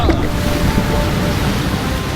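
A river running high, rushing water as a dense, steady roar of broadband noise, loud and close, continuous for the whole stretch with no breaks.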